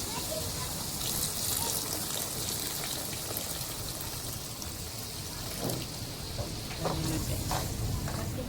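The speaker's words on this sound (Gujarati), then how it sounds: "હવે આપણે આમાં પાણી એડ કરીશું." Water is poured into a simmering shrimp gravy, making a continuous trickling, sizzling wash over the cooking hiss, with a few brief clinks and someone talking nearby.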